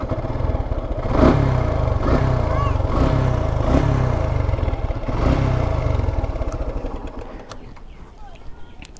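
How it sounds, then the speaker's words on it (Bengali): A motorcycle engine idles nearby while warming up, running at a steady low throb with some rattling clatter, then fades toward the end under someone talking. "ইঞ্জিনটা একটু চালাই এই জায়গায় নিয়ে আসছি, বাট একটু গরম করে রাখতে হবে"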